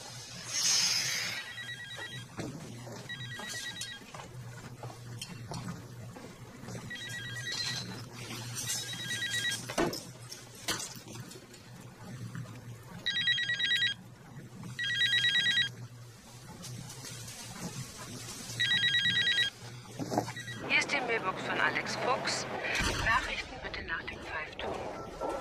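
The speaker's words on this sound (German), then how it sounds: "Telefon." A telephone rings in repeated short bursts of bright electronic trills in a German romantic film scene, sounding over a steady low hum and background music, with gaps between the rings.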